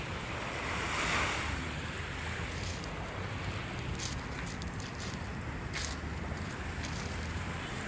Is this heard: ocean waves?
yes